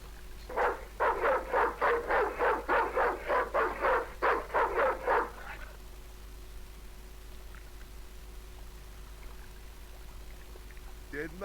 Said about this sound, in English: It's that dog. He's crazy.